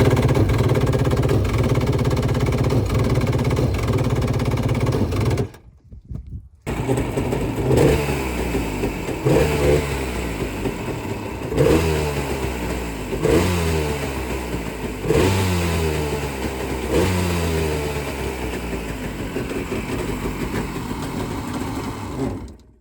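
A Yamaha 1100 jet engine in a jon boat, slow to start on old fuel, runs loud and close, cuts out briefly, then restarts and revs up repeatedly in rising and falling bursts.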